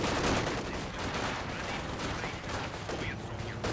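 Machine gun fire from a Kübelwagen in the strategy game Company of Heroes 2 rattles in quick bursts amid battlefield noise, fairly quiet and dense throughout.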